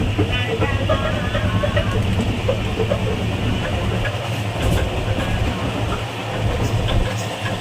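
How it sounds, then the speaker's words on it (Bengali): A passenger train rolls along after pulling out of Bardhaman station, a steady loud rumble with rhythmic wheel clatter and low engine drone, carrying on without pause. "আমাদের ট্রেন অলরেডি বর্ধমান স্টেশন থেকে ছেড়ে দিয়েছে"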